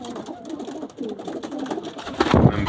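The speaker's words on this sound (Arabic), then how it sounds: "حمام بيتكلم عن نفسه،" Jan Aarden line racing pigeons coo steadily and close by, a continuous murmuring warble that swells louder toward the end, with no voices.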